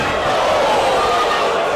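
Ringside crowd at a professional boxing event in Bolton, a dense steady wash of applause and noise sustained throughout at close, loud level.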